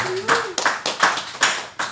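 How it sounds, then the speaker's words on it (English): A small group claps for the TDK crew, an Oakland graffiti crew, in about five or six separate sharp bursts of nearby hand claps. A voice is briefly heard at the start. "let's give a round of applause for the TDK crew"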